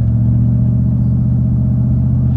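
A 2010 Ford F-150 Lariat pickup driving on the road, its engine giving off a steady, loud low rumble and drone from inside the cab, with no talking.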